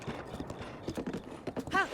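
Horse hooves clip-clopping in the video game Zelda: Breath of the Wild, a quick run of close hoof beats with voices talking over them.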